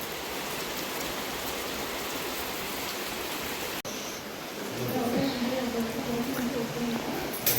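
Rain falls steadily over a flooded village in the monsoon, a dense, even hiss of drops on surfaces that carries on throughout, with faint voices somewhere under it.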